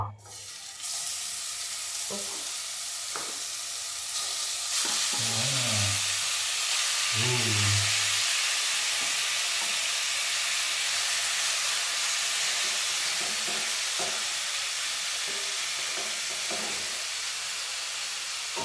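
About 400 g of meat marinated in instant seasoning fries steadily in a pan, a continuous loud sizzle and hiss with a few brief louder bursts of spattering, no talking.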